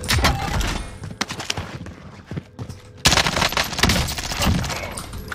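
Rapid automatic bursts from an MP5 submachine gun in the Call of Duty Cold War video game, loud and close, firing in several rattling volleys with a short gap between them.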